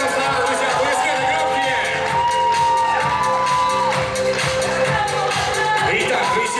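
At a university Miss and Mister pageant awards ceremony, a crowd cheers, whoops and shouts loudly throughout, with a voice talking over the noise and little clear clapping.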